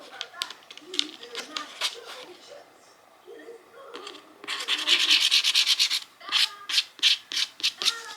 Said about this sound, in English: Sorry, just me drawing another box.